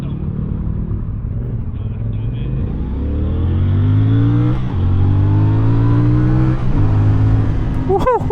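A cruiser motorcycle with its stock exhaust revs up on a Sunday breakfast ride, the deep rumble climbing in pitch through several swelling pulls, loud and close, before a short whoop of a voice at the end.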